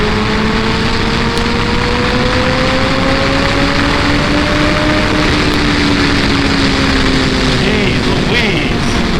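A 2014 Kawasaki Ninja ZX-14R motorcycle pulls hard through fourth gear, a loud continuous engine tone climbing steadily in pitch under heavy wind rush.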